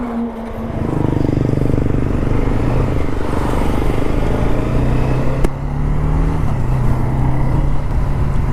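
A Bajaj Dominar motorcycle cruising on a highway, its engine droning loud and steady with heavy wind rush and one brief clack midway.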